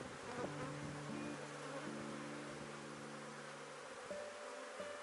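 Apis honey bees drone steadily during a hive inspection, a dense, continuous buzz that stays close and even throughout, with no talking.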